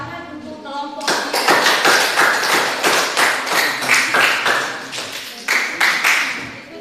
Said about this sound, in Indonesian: kita tepuk tangan untuk kelompok